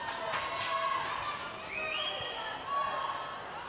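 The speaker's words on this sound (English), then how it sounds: "You can hear people cheering them on." Crowd at the IBFC Universal Cup cheering an athlete on, a faint, distant wash of voices and whoops with a few thuds, while a person talks over it.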